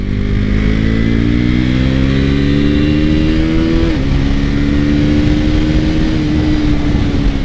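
A motorcycle engine on its first ride roars at full throttle, a loud, close, sustained rev whose pitch climbs steadily, dips briefly at a gear change, then rises again, with no voices.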